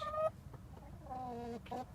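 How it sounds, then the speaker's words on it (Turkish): Australorp hens cluck and squawk in a backyard coop, a few short separate calls standing out clearly over quiet rustling background noise. "Bugün sizlerle beraber tavuklarımı göstereceğim. Bakın burada astroloplarım var."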